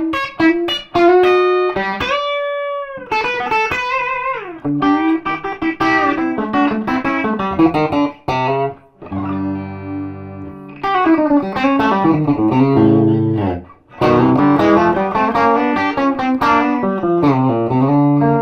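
Electric guitar through a Dr. Z Octal 6 tube amplifier plays twangy, bright country phrases with bends and quick runs, slightly overdriven, with a couple of brief pauses between licks.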